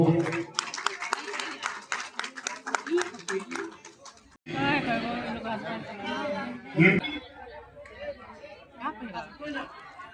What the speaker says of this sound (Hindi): इन दोनों लोगों के लिए जोरदार तालियों से इनका स्वागत हो